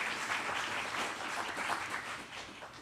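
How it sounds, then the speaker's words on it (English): An audience applauds an award honoree at a leadership prize ceremony, a short steady wash of clapping from a crowd in a hall, fairly distant and even. "Give a little applause for Ms."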